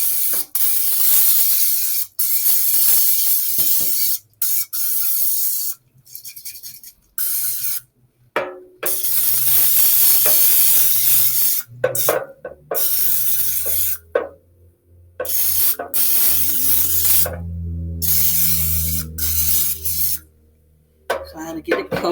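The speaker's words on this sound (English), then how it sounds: "I'm gonna spray with non-stick cooking oil so my chicken will not stick" Non-stick cooking oil hisses from a spray can into the fry basket of a Nuwave Brio air fryer in repeated short bursts, close and fairly loud, separated by brief silent pauses.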